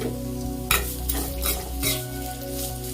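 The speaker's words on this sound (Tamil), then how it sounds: "இதெல்லாம் நல்லா கொஞ்சம் இதோடு சேர்ந்து அந்த எண்ணெயில் நல்லா ஃப்ரை ஆகணும்" Red chillies and lentils fry in hot oil in a pan, giving a steady close sizzle throughout with a brief clatter of stirring.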